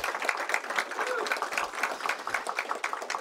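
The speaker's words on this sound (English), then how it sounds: "Please give Hansell a round of applause." A crowd at a mayoral press event gives a round of applause for a reappointed state education superintendent, moderately loud scattered clapping with voices murmuring underneath.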